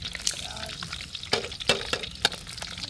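Onions fry in a pan on a farm cookout with a steady crackling sizzle, broken by sharp scraping stirs and clatters of the spoon, heard close up.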